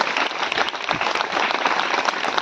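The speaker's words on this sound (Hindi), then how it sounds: "सब लोग अपने हाथों को उठाकर जोरदार तालियां से परमेश्वर का स्वागत करेंगे, जोरदार तालियों के साथ।" Loud, dense applause from a church congregation, continuous clapping that fills the whole stretch without a break.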